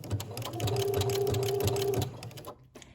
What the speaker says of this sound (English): I'm going to sew up to the first dot.